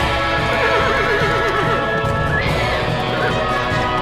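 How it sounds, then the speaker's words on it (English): A stallion neighs loudly with a wavering, shrill whinny, over a steady background of scuffling and other horse noises. "The stallion neighed loudly"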